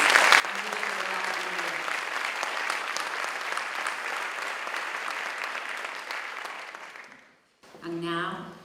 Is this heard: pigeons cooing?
no